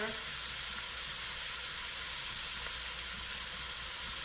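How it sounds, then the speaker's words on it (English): Sautéing in a pan for stewed coconut fish and shrimp, a continuous close hiss of frying that holds steady and fairly loud throughout with no break. "Alright, so we're going to saute that."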